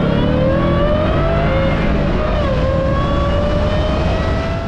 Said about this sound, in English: And now, let's listen to some cars.